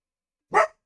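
A single short, sharp dog bark rings out close by after a moment of silence, loud and alone with no voices.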